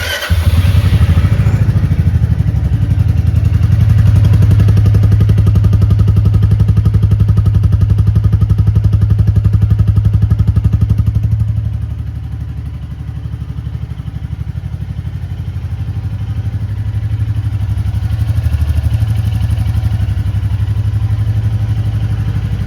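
A Royal Enfield Classic 350 Medallion Bronze motorcycle runs close by, its engine and exhaust giving a loud, steady thumping rumble that eases briefly midway, then swells again.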